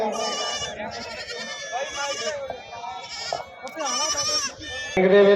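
Goats bleat repeatedly at a goat fair and competition in Bhallaiana, Punjab, in 2023, with loud, wavering cries overlapping one another while people talk nearby throughout.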